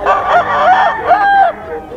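Gamefowl roosters at a Friday poultry market in Bocaue, Philippines, give a loud, close, harsh call that rises and falls several times over about two seconds.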